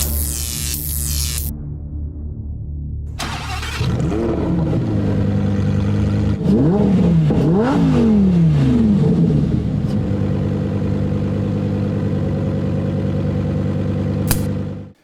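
A V10 engine in an Ultima Evolution car hums and throbs steadily at idle, rising into several rhythmic revs that swoop up and down before settling back to a loud, even drone that cuts off abruptly at the end.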